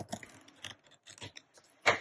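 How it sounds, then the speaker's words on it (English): Scissors trimming paper ephemera for a tag, a few quick close snips and rustles in short bursts, quiet and without voices. "Maybe if we trim her down a little bit."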